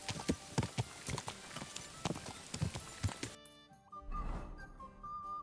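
Horse hooves clip-clop steadily in Kingdom Come: Deliverance II, a rhythmic run of close hoofbeats that stops abruptly partway, followed by a brief low rumble and ambient game sounds.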